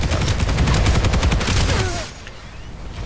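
Rapid SMG fire rattles in sustained bursts for about two seconds during a Planetside 2 tech plant assault, loud and close, then fades into lower battlefield noise.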